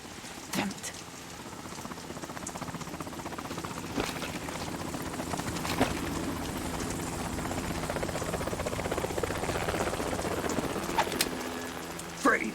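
Helicopter in the Metal Gear Solid 2 video game, a continuous rotor drone with steady churning texture running throughout, with occasional sharp effects layered on top.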